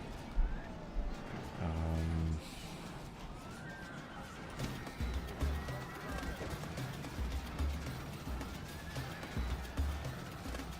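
Sarmatian noble horse archers neigh in the Europa Barbarorum battle game, one loud whinny near the start over a busy battlefield din of hooves and clatter, with further faint horse sounds mixed into the steady noise.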